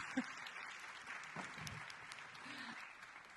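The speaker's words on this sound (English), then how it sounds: "let's clap" Steady applause from a conference audience at a dialogue on women farmers fills the room, a broad even wash of clapping with a few voices faintly underneath.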